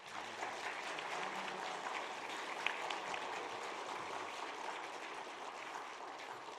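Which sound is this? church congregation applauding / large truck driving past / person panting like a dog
church congregation applauding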